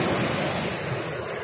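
Stormy Baltic Sea surf roars continuously at Svetlogorsk, loud and close with wind buffeting the microphone and no voices present.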